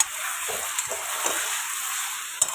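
Marinated chicken pieces sizzling in spiced masala with capsicum and chilli, a steady close hiss broken by spatula knocks and scrapes against the pan, no voices.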